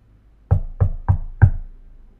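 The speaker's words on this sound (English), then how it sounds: "A knock on the door." Four firm knocks rap on a door in an even, slightly slowing rhythm, close and alone against near silence.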